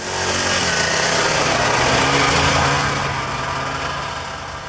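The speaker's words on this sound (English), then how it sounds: "it's now time to go skidooing!" A snowmobile engine runs steadily at a constant drone that swells slightly and then eases, loud and close, with no voices.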